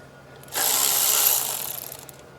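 A ratchet or power tool undoes the high-pressure fuel pump bolt on a Mercedes M276 engine, giving a single continuous whirring burst of about a second after a quiet moment and then fading, with a low hum underneath throughout.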